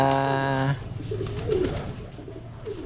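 Pigeons cooing on a house roof: a short close coo, then softer rolling coos under faint background talk.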